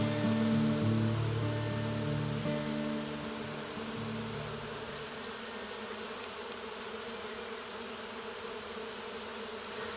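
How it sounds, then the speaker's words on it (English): A whole colony of bees swarms around a tree, a dense continuous buzzing drone that stays steady throughout, with a louder low hum in the first few seconds before settling. "We have up here just an entire colony of bees creating some type of amazing magnetic force field around this tree"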